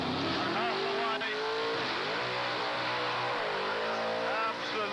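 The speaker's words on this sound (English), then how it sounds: "As he lets this thing rip, watch the car leap up on his springs and hustle away" A Dodge Hemi Challenger accelerates hard at Goodwood Festival of Speed, its engine note rising and falling through gears while tyres smoke, with a commentator talking over the roar.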